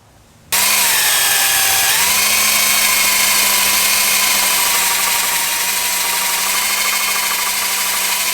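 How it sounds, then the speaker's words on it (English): A powered wire brush on a Ford Escape or Mercury Mariner axle hub spins up with a sharp start and holds a loud, steady whine and grinding hiss, the pitch dipping briefly under load before settling. "we're going to get a wire brush and clean this up next"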